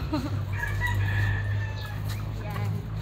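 A rooster crows through a steady low hum on a farm, with hens and pullets clucking nearby and a brief voice early on.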